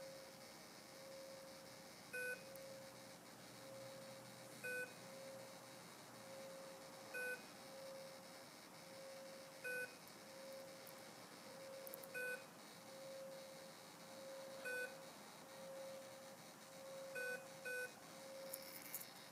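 Faint electronic double beeps from a Kosmik speed controller, signalling 8-volt selection, repeating at regular intervals of a couple of seconds, over a steady low hum, with no talking.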